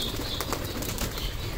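A flurry of pigeon wings flapping close by, several quick beating bursts over a constant background hiss.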